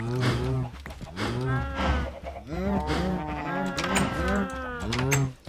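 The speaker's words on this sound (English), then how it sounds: "Cow." A cow moos repeatedly in a video game, a run of loud, close, drawn-out lowing calls in a steady rhythm with barely a pause.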